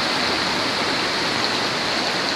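Floodwater rushes through a street in Nicolândia after heavy flooding, a dense, steady roar of churning water, loud and close, continuous throughout with no voices.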